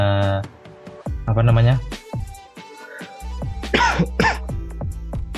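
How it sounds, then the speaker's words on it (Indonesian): Coughing and throat clearing, several short harsh bursts close to the mic, mixed with background speech. "maaf batuk."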